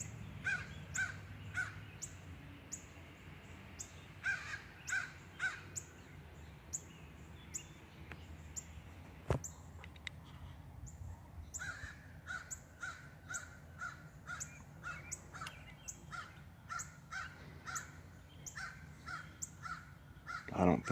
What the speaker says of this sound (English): these crows raising Cain